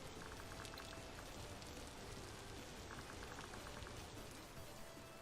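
Steady rain in the Vintage Story video game, a dense even patter of drops with faint clicky tapping that runs unbroken and moderately quiet throughout, with no voices.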